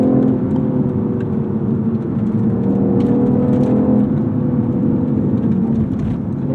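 A BMW i8 hums steadily from inside the cabin while driving, a smooth mid-pitched engine and road drone with slight rises and dips through conservative downshifts, no voices.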